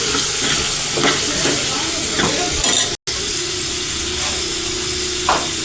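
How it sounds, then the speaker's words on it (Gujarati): Red chili powder with cumin-coriander is stirred in a pan over low gas, a soft continuous sizzle with light scraping strokes and an occasional clink of the spoon, close by. "અને લાલ મરચું નાખી દઈશું ધીમો ગેસ રાખીને. તેને હલાવીને મિક્સ કરી લઈશું."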